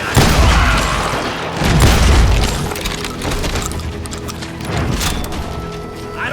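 Gunfire erupts in a town street in the Call of Juarez: Gunslinger video game, with loud, heavy booming blasts and rumbling reports that overlap into a dense, continuous barrage.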